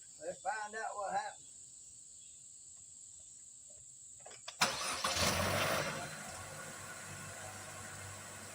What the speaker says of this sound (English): Okay, Piggy getting ready to start the car.